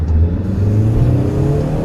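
Engine of a 2014 Hyundai Elantra Coupe with automatic transmission held at steady high revs during track acceleration testing, a loud, continuous droning hum with a rising pitch and no talking.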